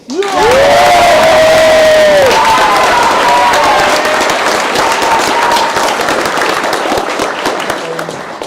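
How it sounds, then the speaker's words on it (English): Loud, dense crowd applause and cheering at a martial arts black belt graduation ceremony, starting abruptly and sustained for several seconds with a few whistles, slowly tapering toward the end. "So everyone give a hand for Mr. Owen."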